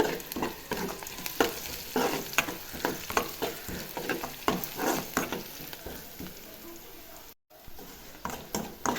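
Onions frying with turmeric in a pan, a steady sizzle under repeated rhythmic scraping and stirring strokes, close by, with a brief dropout near the end.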